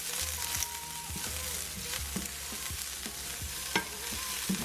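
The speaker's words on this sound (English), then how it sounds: "I'm gonna add the mushrooms," Mushrooms sauté in a hot pan with a steady, close sizzle, while a utensil stirs them with repeated scraping and tapping strokes.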